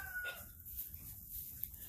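Quiet farmyard ambience with a faint, brief bird call early on and low murmuring clucks from a rooster and a hen on a nest, distant and soft, with no talking.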